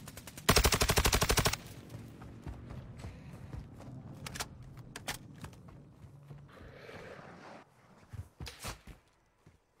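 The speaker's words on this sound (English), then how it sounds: "Getting shot from the back" In a multiplayer shooter video game, a loud burst of rapid automatic gunfire rattles for about a second, followed by scattered quieter shots, clicks and footsteps, with sharp single reports near the end.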